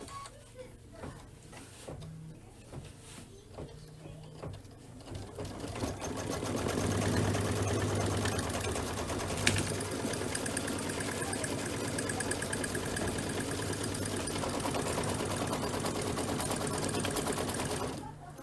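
A computerized embroidery sewing machine runs basting stitches to the hoop for a belt bag, a steady, loud, fast mechanical chatter that starts after a few light clicks and continues unbroken, with a voice speaking over the quieter opening.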